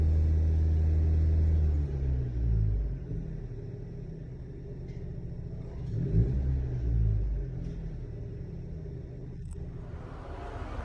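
A diesel car engine revving while idling, a deep steady rumble that swells and eases as the RPM is raised, running close and alone with no voices.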